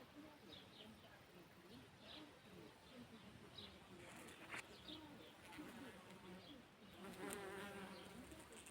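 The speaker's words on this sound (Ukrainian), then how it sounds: "Эх, як бжілки працюють." Steady insect buzzing hums throughout, like bees working nearby, with faint bird coos and some rustling in the background.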